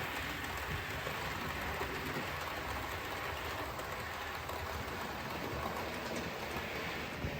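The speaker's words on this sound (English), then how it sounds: "This is just a good excuse to have a play with trains" A model train runs along its track with a continuous, even rolling whir and rattle, close and moderately loud throughout, with no voices.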